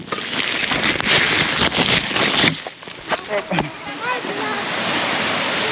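Waves wash onto a short rocky beach shore, a broad rushing surf with gusty wind noise, while people talk and move close by.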